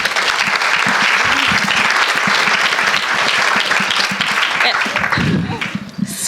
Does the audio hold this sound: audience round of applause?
yes